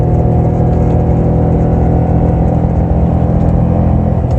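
A 2019 Toyota Tundra TRD Pro engine roars steadily under load while towing, a loud, dense drone heard from inside the cab as it accelerates.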